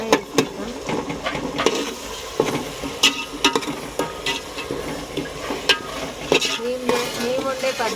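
Tomatoes cook in oil in a pan for a Telugu fish curry, with loud stirring scrapes and clinks of a utensil against the pan over a soft sizzle. The scrapes come in irregular bursts, close up.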